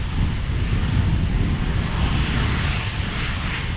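Delta Boeing 737-800 airliner passing at Cincinnati's CVG airport, a steady, broad engine roar filling the whole stretch without letup or talking.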